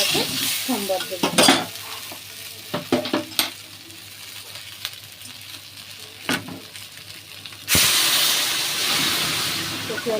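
Taro (kochu) frying in a hot pan for a prawn curry, with stirring scrapes and bursts of sizzling that grow into a loud steady hiss near the end, close up and without speech.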